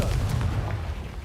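Confringo fire-blast spell in the Hogwarts Legacy video game: a dense, rumbling explosive burst with heavy low-end boom that sustains through the moment, loud and up close, no speech over it.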